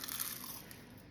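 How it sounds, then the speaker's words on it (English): Baked phyllo triangles are bitten into, giving a faint, close, crisp crunch with a brief crackle that fades quickly. "You hear that crunch?"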